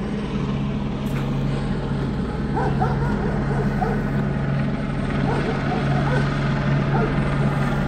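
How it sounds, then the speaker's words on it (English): A large dog barks in short bursts during a police arrest after a car chase in Hemet, California, half-buried under the steady, loud drone of a police helicopter circling overhead. "that's a big ass dog"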